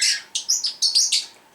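A pet bird chirps and shrieks in a quick series of about seven loud, sharp calls, close by and alone with no talking.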